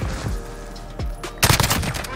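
Close, sharp gunshots from an FN SCAR 17 in Modern Warfare, a few spaced rounds followed by a quick burst of rapid fire.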